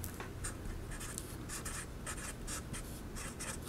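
A stylus moves across a digital tablet as someone writes numbers during a math lesson, making soft, quick scratchy taps and strokes in irregular bursts, faint and close over a low steady hum.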